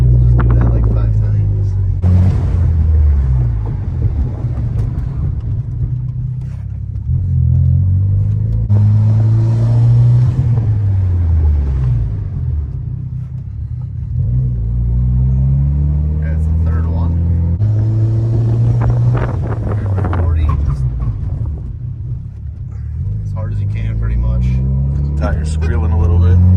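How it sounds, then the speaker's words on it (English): Mitsubishi Evo X accelerating and braking repeatedly while bedding in new drilled and slotted brakes, engine rising and falling in cycles, loud and close, with a person talking throughout. "Tire's squealing a little bit."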